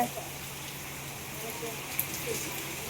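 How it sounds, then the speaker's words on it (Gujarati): Heavy rain pours down in a continuous, even broadband hiss, fairly close and steady, with no clear individual drops. "આજે બહુ ફૂલ બારીશ છે"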